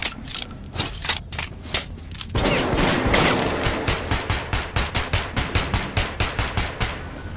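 Automatic gunfire in the post-apocalyptic shooter Metro 2033: loud, close bursts, with a dense sustained stretch of fire giving way to a rapid, evenly spaced run of individual shots.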